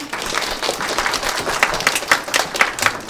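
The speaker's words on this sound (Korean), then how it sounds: "큰 박수 부탁드립니다." An audience at an AWS seminar applauds a speaker, a moderate burst of clapping with some sharper individual claps standing out near the end.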